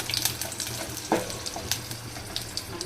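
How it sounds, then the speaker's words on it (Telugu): Garlic, cumin and mustard seeds fry lightly in a spoonful of oil, giving a soft, steady sizzle with small crackles and pops, close and fairly quiet, with no talking. "వెల్లుల్లితో పాటు జీలకర్ర, ఆవాలు అవి వేసి లైట్గా ఫ్రై చేస్తాను"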